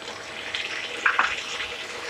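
Potato and bean curry with tomatoes sizzles in a pan, a steady close hiss with a couple of brief louder crackles in the middle.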